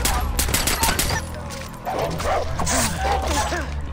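Dog barking in the video game Far Cry 4, several sharp barks in quick succession mixed with bursts of rapid gunfire, loud and close, followed by a stretch of howling and yelping.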